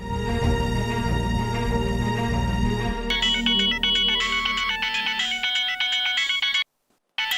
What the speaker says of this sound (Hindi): सॉरी, मेरे स्टिंगर का फोन।